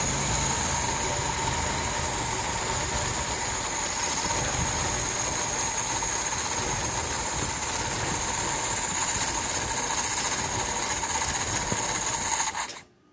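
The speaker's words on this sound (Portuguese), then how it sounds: "Deixa eu acelerar ele aqui um pouquinho." A Ford Del Rey car engine runs steadily at a raised idle with a loud, constant droning hum that holds for about twelve seconds, then cuts off abruptly at the end.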